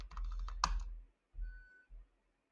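Someone typing a short greeting on a computer keyboard: a quick burst of close key clicks with one sharper tap, then two brief softer keystroke clusters separated by pauses.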